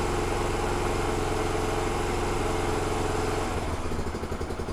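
A Yamaha YBR 125 motorcycle engine runs just after an oil change, idling with a steady low, even putter, then revving slightly near the end before settling.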